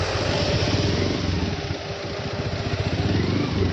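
A two-wheeler motorcycle idles in stop-and-go traffic, its engine putting out a steady, close, throbbing chug throughout with no voices.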